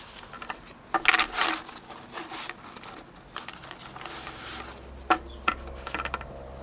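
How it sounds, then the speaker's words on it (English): Tarot cards are shuffled by hand in soft, irregular bursts of riffling and flicking, quiet and close, with short pauses between the shuffles. "I'm normally a really good shuffler"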